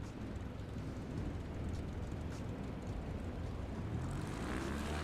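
A propeller airplane engine in Microsoft Flight Simulator drones steadily on a bush trip in Alaska, a loud, dense, continuous roar with a low rumbling throb that holds constant throughout.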